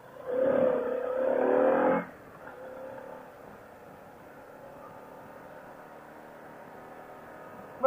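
A Harley-Davidson Pan America motorcycle ridden on a rural Pennsylvania road, its engine rising loudly under acceleration for a couple of seconds, then settling into a steady, quieter cruising drone with wind noise.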